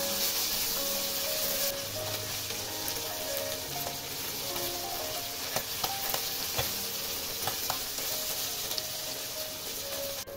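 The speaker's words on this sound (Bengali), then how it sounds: "একটু সময় নিয়ে এপিট ওপিট উল্টে পাল্টে বেশ লাল লাল করে ভাজবে।" Tangra fish frying in a pan of oil and being turned, a continuous close sizzle and crackle with occasional louder pops and clinks of a utensil.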